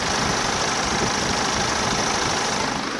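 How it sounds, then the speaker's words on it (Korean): The engine of a 2020 BMW 6GT M Sport idles with a steady, even mid-to-low hum, close and constant, with no voices over it. "자 바로 엔진은 들려드릴게요"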